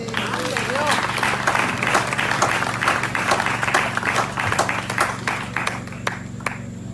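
An audience at a church service breaks into sustained, dense applause, many hands clapping together at steady volume for several seconds before trailing off, with a few voices mixed in.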